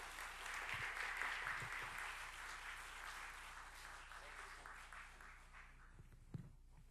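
Church congregation at a teachers' seminar clapping warmly as a deacon comes forward to speak, sustained applause that slowly thins out over several seconds, with faint room sounds and a brief voice at the end.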